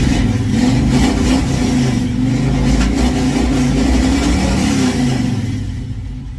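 A 1970 Chevelle or 1971 C10 engine after a cold start, running rough on bad gas with a loud, steady, low rumbling rev close by that eases off slightly at the end, no talk.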